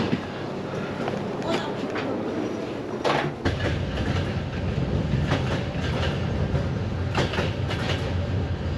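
A Budapest–Bucharest sleeper passenger train rolls along the rails with a steady rumble and rhythmic clickety-clack, short bursts of wheel noise cutting in, while voices talk faintly over it.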